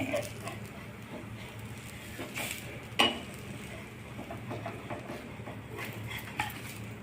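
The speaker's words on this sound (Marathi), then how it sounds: "आता आपला उत्तप्पा उलटून घेणे" Ragi, semolina and gram flour uttapam flipped on a hot oiled pan at home, a sharp clatter of a spatula striking the pan near the middle amid soft sizzling, with a few lighter utensil taps afterward.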